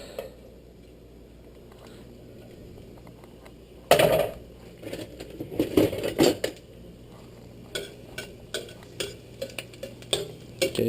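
Garlic being sautéed in a pan for Filipino ground beef giniling, heard mainly as clattering and scraping of a utensil against the pan, with a loud clank and busy stirring after a quiet start, no talk.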